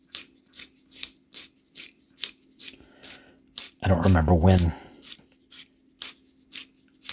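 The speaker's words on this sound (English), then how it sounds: "let's sharpen it. We'll use a long point sharpener" A long point sharpener shaves a cedar railroad pencil from the 1960s or 70s, cutting in a steady run of short, regular rasping strokes up close, with a longer continuous grind midway and a voice speaking briefly over it.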